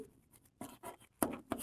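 Chalk or marker strokes on a board during a physics lecture on emission and absorption, a few short scratchy bursts separated by pauses, close and moderately quiet.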